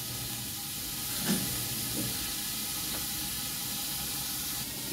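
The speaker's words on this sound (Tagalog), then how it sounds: "Gisa ko lang saglit ang sayote." Chayote sautéing in a hot pan, a soft steady sizzle and hiss at low volume with a couple of faint clinks, no one speaking.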